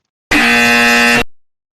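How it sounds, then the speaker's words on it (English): A loud incorrect-answer buzzer sounds once, a harsh, flat, horn-like drone held for about a second before cutting off abruptly and leaving silence, with nothing else heard around it. "Loud yeah, incorrect buzzer."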